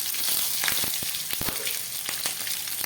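Green chillies, a dried chilli, a bay leaf and panch phoron sizzle loudly in hot oil with a dense, crackling spit. A few sharp pops break through the sizzle, and no one speaks.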